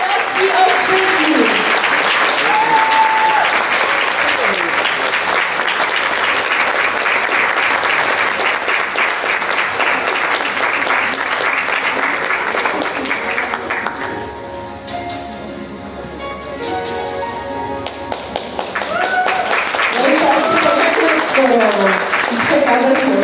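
Sustained loud applause and cheering from a pageant audience as Zuzanna Balonek, number 14, is crowned Miss Beskidów Nastolatek 2022, dipping briefly mid-way before swelling again, with an announcer's voice over it.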